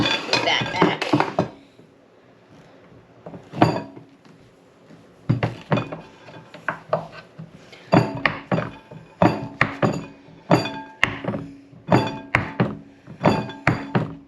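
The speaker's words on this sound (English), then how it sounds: "I'm going to cut it up into little cubes" Firm knife strokes chop half a cup of cold butter into small cubes on a cutting board: a burst of hard thunks, a pause, then steady runs of close, rhythmic knocks against the board.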